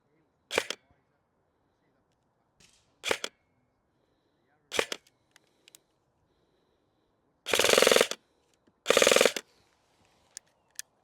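An airsoft gun with an MR Hop fires 0.32 BBs downrange outdoors: three sharp, spaced single shots, then two longer rapid bursts, loud and close against near silence.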